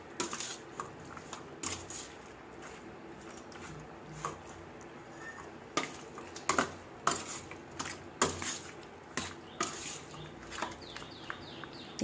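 Butter chicken marinade being mixed in a bowl, with clinking and scraping of a utensil against the dish that grows into a steady series of rhythmic strokes, close and moderately loud.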